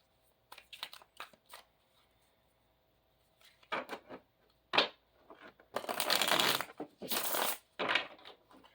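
Osho Zen Tarot cards handled and shuffled nearby: scattered soft riffling clicks at first, then several louder, longer riffle bursts toward the end, with no talking.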